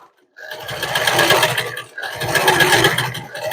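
Sewing machine zigzag stitching loosely laid rope coiled into a round rug, running in two steady motorized bursts with a brief pause between, close and fairly loud.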